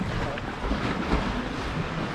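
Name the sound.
waves echoing inside sea caves at Pictured Rocks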